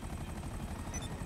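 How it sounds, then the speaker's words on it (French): Steady whirring helicopter rotor drone in the video game GTA V, dense and continuous throughout, with no voices. "C'est cet hélicoptère-là."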